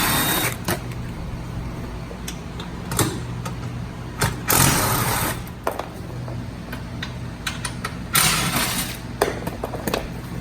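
Six 10mm skid plate bolts are loosened with a ratchet wrench beneath a Fiat 500 Abarth, making rapid, irregular clicking and metallic ticks, close and fairly loud, with short bursts of sharper scraping.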